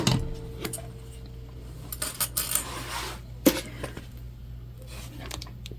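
A sewing machine needle striking metal gives sharp metallic clicks and taps over a low steady hum, with a brief burst of rattling hits and a louder strike partway through.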